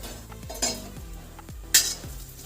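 A spoon scrapes and clinks steadily in a pan as coriander powder and spices are stirred, with a soft sizzle underneath and a couple of sharper metallic knocks.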